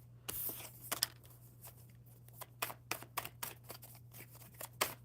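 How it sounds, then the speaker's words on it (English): Playing cards shuffled by hand at close range, producing quick riffling bursts and soft snaps in irregular clusters over a faint steady hum. "I'm just shuffling these cards."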